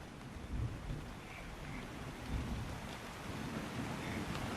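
Steady rain pours down in a radio drama scene, a dense, even hiss with occasional low rumbles like distant thunder, no voices over it.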